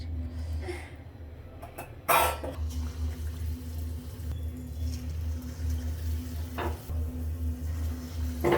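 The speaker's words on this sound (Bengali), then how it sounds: "আর কিছুটা তেল অ্যাড করে দিব যেহেতু গুলুগুলিগুলো ভাজবো এখন" Gulgula fritters frying in a pan of oil give a steady, moderately loud sizzle over a low hum, with a sharp clunk early on and a brief burst of crackle later.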